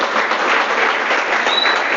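Applause for a church's temple cleaners during a Christian service, a steady dense wash of many hands clapping together, loud and continuous from start to finish with no voices over it.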